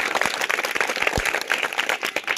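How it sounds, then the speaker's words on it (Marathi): A burst of applause from an audience at an antakshari singing competition, brisk overlapping claps at steady volume for a couple of seconds. "टाळ्या वाजवायला हरकत नाही"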